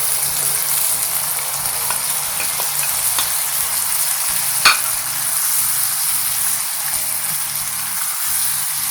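Sausage is tossed into a pan of wilting vegetables for a quick liver-and-sausage dish, with a loud, continuous sizzle and frying crackle and occasional stirring clatter.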